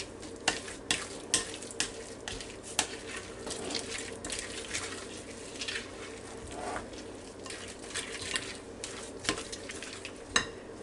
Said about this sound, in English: So let's just see how it is once we stir it up.